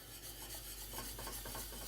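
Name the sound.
whisk stirring cream in a saucepan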